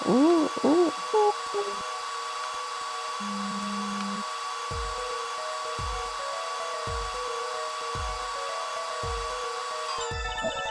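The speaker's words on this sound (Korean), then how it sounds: "드라이어기를 움직이며 A로 뜨거운 바람을 쐬어줘." A steady, whirring hair dryer blows throughout, drying plaster in the video game Ace Attorney 4, with a few game-like tones at the start and soft rhythmic thumps beneath the constant hum.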